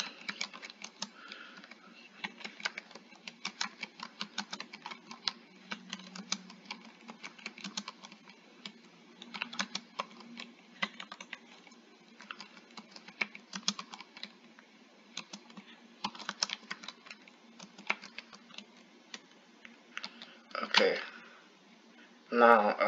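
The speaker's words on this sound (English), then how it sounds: "So I'll just type some word right now." Keys clatter on a computer keyboard in quick irregular bursts, close and moderately loud, with short pauses between words and a voice speaking near the end.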